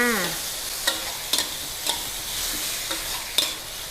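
Fatty pork belly stir-fries with lemongrass in a pan over medium-high heat, giving a continuous crackling sizzle punctuated by several sharp spatula scrapes and clinks at irregular intervals.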